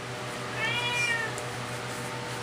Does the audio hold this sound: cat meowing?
yes